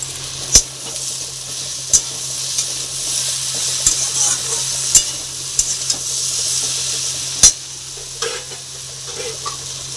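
Fish head, potato, eggplant and tomato fry in hot oil with a steady sizzle, broken by several sharp clanks of a spatula against the pan.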